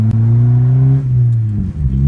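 Honda Civic with a D16Y7 engine and a broken, loud exhaust revs close by, a deep droning exhaust note that dips and rises again over two seconds.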